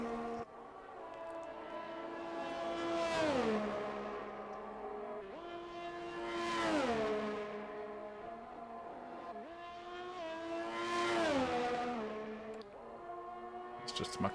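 A McLaren race car in a racing video game, Saudi Arabia track, revs and shifts through gears in smooth rising and falling engine sweeps, three clear surges, steady and close.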